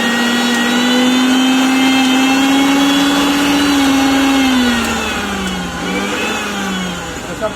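A repaired mixer grinder runs steadily with a loud, even motor whine that dips slightly in pitch near the end, close up and with no voices.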